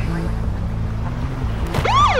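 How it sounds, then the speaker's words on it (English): A police siren from the Max Payne film, a brief rising and falling wail that cuts in near the end over a low, steady rumble. "That's my siren. Ain't it neat?"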